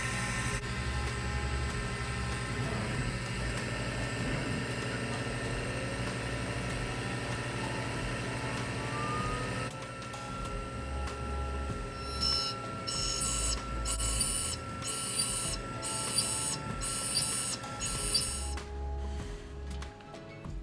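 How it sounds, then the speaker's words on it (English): A VHF Z4 dental milling machine spindle spins while milling a crown, a steady high whine with shifting tones and a continuous mechanical hum, later broken by repeated rhythmic pulses before the noise drops away. "Spindle started to spin."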